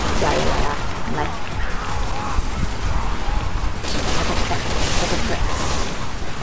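Dense bursts of grenade explosions and rapid gunfire blending into a continuous loud barrage in Resident Evil 6's Mercenaries No Mercy mode, with someone talking excitedly over the din.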